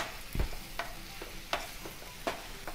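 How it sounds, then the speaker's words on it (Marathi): Tomatoes cooking with salt in a hot pan give off a steady close sizzle, with sharp stirring scrapes breaking through roughly every second. "टोमॅटो लवकर शिजण्यासाठी आपण ह्यात थोडे मीठ घालूया आणि टोमॅटो मऊ शिजवून घेऊया"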